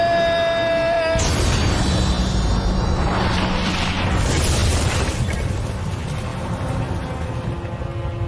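A loud, booming explosion in an animated cartoon movie, bursting in sharply after a tonal music note and rumbling with debris-like crackle for several seconds.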